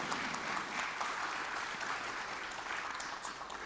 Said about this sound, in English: But now, a big applause to all of our panelists.